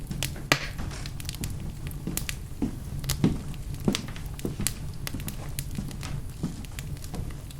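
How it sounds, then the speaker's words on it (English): Slow footsteps approach across a floor, soft irregular thuds and scuffs spaced about half a second apart over a quiet ambient hiss. "Then the sound of footsteps approaching."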